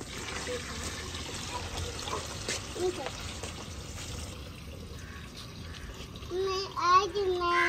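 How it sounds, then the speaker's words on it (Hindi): Water drains and trickles from a pot of soaked rice in a village kitchen, a continuous wash of pouring and splashing with a child's and adult's voices talking over it. "इसमें पानी जो है ना निकाल देते हैं, क्योंकि पानी हमने पोस देने के लिए डाला था।"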